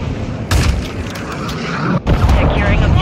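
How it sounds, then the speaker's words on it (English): A cruise missile strikes in Call of Duty Modern Warfare 2 Ground War gameplay, a loud booming explosion with rumbling low blasts and a second hit, mixed with game voices. "Hostile cruise missile incoming."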